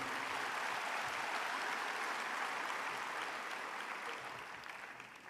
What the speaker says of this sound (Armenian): Եկեք եւս մեկ անգամ ծափահարենք մեր լավ ընկերոջը Իշխան Սաղաթելյանին։